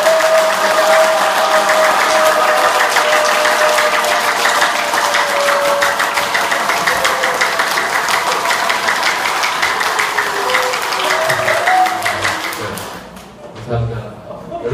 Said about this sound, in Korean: 여러분들 박수와 함성을 한번 쳐보도록 하겠습니다